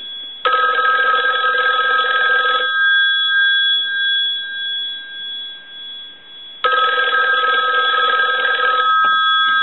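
The old bell of a repaired 223G three-slot payphone rings loudly for about two seconds, falls silent, then rings again in a second long, close burst.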